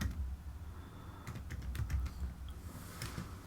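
Soft keyboard typing on a computer running DaVinci Resolve 16, a few quiet scattered keystrokes in a brief burst, faint and close.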